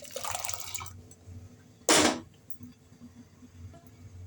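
A thick blended soup of Kolli Hills tuber is poured into a cooking pot, a brief liquid splash and trickle followed by a sharp, loud pour burst, then quiet dripping.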